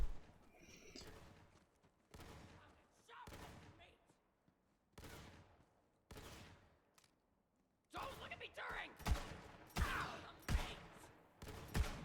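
Gunfire in Borderlands 3, a shooter video game: separate bursts of shots spaced a second or two apart, then heavier rapid firing near the end, fairly faint overall with occasional voices.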